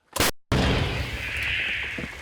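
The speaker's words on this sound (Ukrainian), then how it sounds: "Гармата! Постріл!" A single powerful boom from an M777 howitzer bursts out, followed by a rushing, rumbling decay that lingers in the open air.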